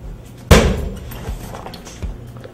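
One hard kick slams into a heavy punching bag with a sharp loud smack and brief rattle, followed by faint softer thuds and shuffling.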